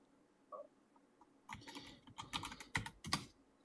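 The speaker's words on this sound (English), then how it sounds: "I was typing as you were talking" Typing on a computer keyboard: a quiet single tap, then a quick run of close, crisp key clicks in uneven bursts.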